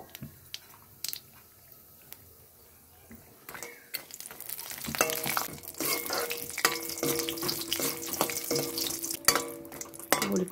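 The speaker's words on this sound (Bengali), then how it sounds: "এরপরে আমি বড়ি দেব" Bori, small sun-dried lentil dumplings, dropped into hot oil with black cumin in a kadai, start a steady sizzling and crackling after a quieter start, with stirring clinks of a spatula against the pan.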